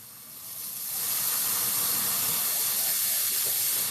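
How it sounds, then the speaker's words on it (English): Steady, loud hiss of water spraying at a kitchen sink while dishes are washed and a dishwasher is loaded, swelling in the first second, then holding constant without speech. "Well, loading up a dishwasher."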